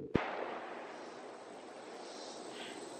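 One sharp crack from a 30-30 rifle, fired at a chronograph, rings out early and trails off into a long, faint reverberant tail.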